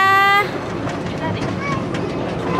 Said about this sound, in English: It's actually quite a nice little train ride.